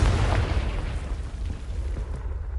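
A Confringo fire spell exploding in Hogwarts Legacy, a loud rumbling fiery burst with booming low end that gradually thins into crackling decay, no talk.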